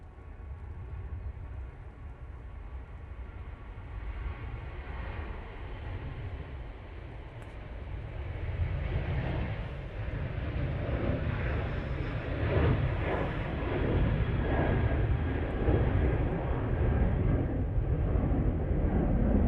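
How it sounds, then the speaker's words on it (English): A Ryanair Boeing 737-800 on its takeoff roll at Manchester Airport produces a broad jet roar that builds steadily in loudness from a distance over about twenty seconds. "Ryanair now on the roll, using the 737-800."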